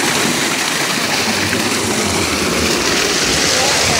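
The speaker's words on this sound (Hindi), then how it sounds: "तो यहाँ से पानी गिर रहा है" Clear water pours from a stream outlet outdoors, a loud, steady rushing wash that continues unbroken throughout.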